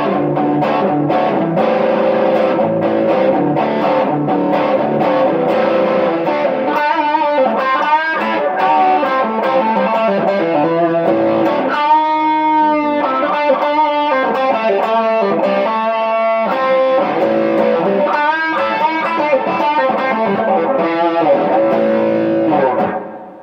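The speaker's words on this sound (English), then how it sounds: "I'm gonna keep it on the bridge real quick and throw a little OD on it" An overdriven electric guitar, a Fender Telecaster on the bridge pickup with plate reverb, plays a melodic passage with slight grit and a reverberant wash, sustained notes blooming before fading at the end.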